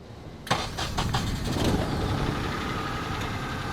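A Honda Insight hybrid's 1.0 liter three-cylinder engine cranks with a sharp burst of starter whir, catches, then settles into a steady close idle.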